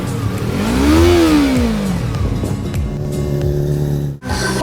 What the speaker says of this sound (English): Let's get revving.